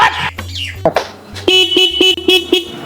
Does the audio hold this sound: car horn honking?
yes